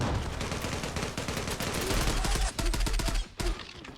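Rapid automatic gunfire in the online shooter Zula, dense bursts of close shots rattling almost continuously, with a few brief gaps near the end.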